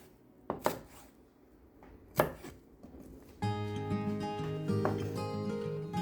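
A knife chops a shallot on a cutting board with a few sharp, separate thuds, and then a steady clattering layer of kitchen noise and dishes takes over. The chopping is close and quiet, and no one speaks.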